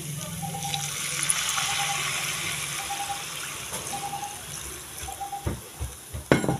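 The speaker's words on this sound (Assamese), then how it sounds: "পানী দি দিম।" Water poured into a cooking pot of frying pigeon meat, a steady pour and trickle that runs for several seconds, then gives way to a few clinks and knocks of utensils against the pot.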